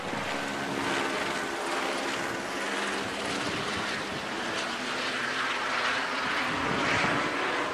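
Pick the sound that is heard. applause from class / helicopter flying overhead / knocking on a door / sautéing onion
helicopter flying overhead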